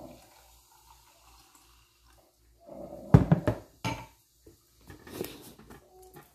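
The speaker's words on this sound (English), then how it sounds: "Okay, so I'm just going to pour a glass of this." Homemade cranberry lemonade, blended, poured into a glass: a burst of liquid splashing and glass clinks after a quiet start, then a few fainter clinks and splashes trailing off.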